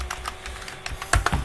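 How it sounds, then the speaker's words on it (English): Keys clatter on a computer keyboard as a short search is typed, a handful of soft, uneven taps over about a second and a half, fairly close and with no talking. "I'm going to type in Thor on images."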